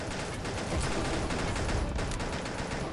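Continuous gunfire in the mobile shooter Pixel Gun 3D, a loud, dense rattle of shots sustained throughout with slight surges, up close and with no talking.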